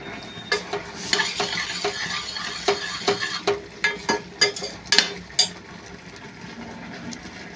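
A spoon clinks and scrapes repeatedly against a pan in a quick, uneven rhythm over a soft background sizzle of ghee tempering for cabbage dal.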